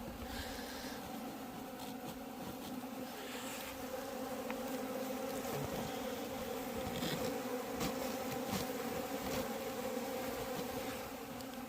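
Native Asian honeybees buzz steadily at the hive, a dense, continuous drone close by with no talk.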